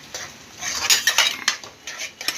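Spoon stirring a thickening rasmalai modak mixture with chopped almonds, dry fruits and cardamom powder in a kadhai over low gas, giving irregular metallic scrapes and clinks against the pan, close and fairly loud, with no talking.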